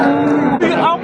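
Cattle low at a livestock market in Kattakurgan, with one steady, close moo that dips briefly and resumes, over a background murmur of people.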